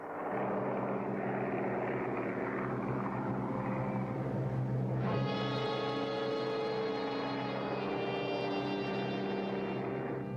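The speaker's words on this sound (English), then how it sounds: "His Zeros, Vals, and Kate's warplanes try to snatch the victory from the U.S. ships." Japanese WWII warplanes, Zero fighters, Val dive bombers and Kate torpedo bombers, roar steadily overhead near U.S. aircraft carriers at Midway, a continuous loud droning engine sound with shifting pitch and no talk.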